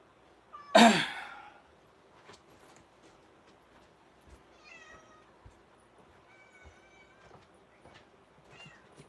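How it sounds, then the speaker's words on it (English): A house cat lets out one loud, close meow near the start, followed by several fainter, drawn-out meows through a quiet room with low background hum. "I've been interrupted 3 times by the cat now"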